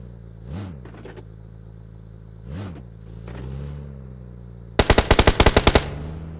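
An AMR rifle in a video game fires a rapid burst of about eight loud, sharp shots near the end, after passing vehicle engine swells and quieter background noise.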